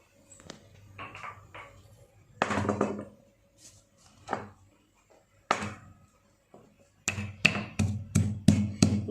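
Ginger being pounded to crush it, with a few scattered thuds followed by a run of about six sharp, evenly spaced knocks near the end, close and clear with no talk.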